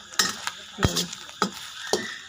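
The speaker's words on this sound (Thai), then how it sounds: "เอามาขัวใส่น้ำมัน ใส่น้ำเล็กหน่อยขัวให้มันแห้งก่อนเด้อ" Winged termites are stir-fried in oil in a pan. About four sharp spatula scrapes and clinks against the pan land at an irregular pace over a light, crackling sizzle, heard up close.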